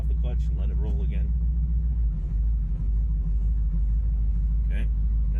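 Chevrolet Nova with a manual transmission rolling along after the clutch is let out, a steady low engine rumble close by, with people talking over it inside the car.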